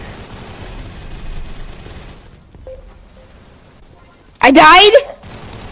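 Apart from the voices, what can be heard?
SMG gunfire in the video game Gun Raiders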